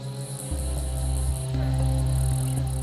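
A katydid in an Australian forest mimics a male cicada's mating call, heard as a steady, insistent buzzing drone with layered tonal hum, continuous and close for the whole span.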